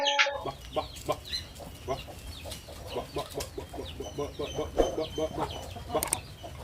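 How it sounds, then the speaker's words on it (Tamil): Several large Peruvidai native chickens on a farm cluck in short, repeated bursts nearby, with scattered calls overlapping against a low background rumble. "இதுதான் நம்ம கோழிகள் இது எல்லாமே வந்து பெருவட கோழி தான் நம்மக்கிட்ட இருக்குது"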